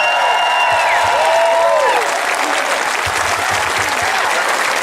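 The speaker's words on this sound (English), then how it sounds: "Big round of applause for Senator Sarah Hanson-Young." Large outdoor crowd applauding at a marriage equality rally in Taylor Square, Sydney, steady dense clapping filling the whole stretch, with a few faint whistles near the start.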